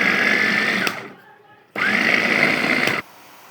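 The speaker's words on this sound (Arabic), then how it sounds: "انا حطيت البصل في الكبة وهضربه في الكبة" An electric food chopper whirs loudly as it chops onions, running in two bursts about a second long each, with a short pause between them and a sharp stop after the second.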